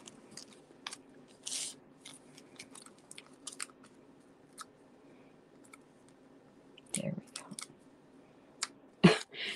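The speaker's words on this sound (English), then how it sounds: "Just cut off a tiny bit of that." Scissors snip a small piece off a paper stencil in a few quick, faint crunching cuts, with light clicks and rustling scattered around them in a quiet room.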